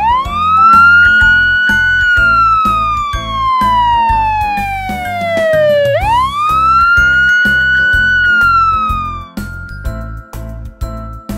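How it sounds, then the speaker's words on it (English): A toy police car's electronic siren wails loudly and close, sweeping down and back up, over a steady rhythmic beeping pattern, then cuts off near the end. "Police car."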